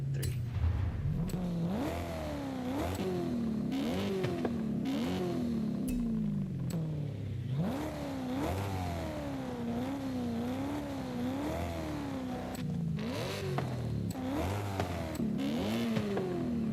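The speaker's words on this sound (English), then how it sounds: "Yes, love the sound of the M3." A BMW M3 with a race exhaust in a racing video game, revving repeatedly in rising and falling bursts, loud and continuous with a raspy engine tone and no talking.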